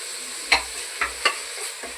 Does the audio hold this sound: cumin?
yes